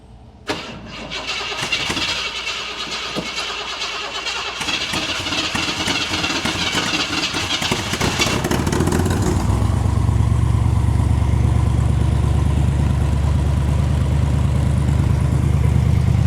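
A Cadillac V8 mounted in a Yugo is cranked by its starter for several seconds, then catches and settles into a loud, steady, rumbling idle close by.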